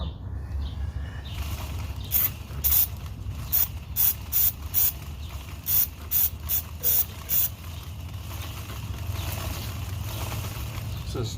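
Aerosol can of lithium grease sprayed in a series of short hissing bursts, about ten quick squirts in an uneven rhythm, close by, over a low rumbling background.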